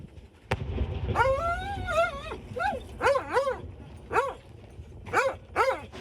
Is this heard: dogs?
yes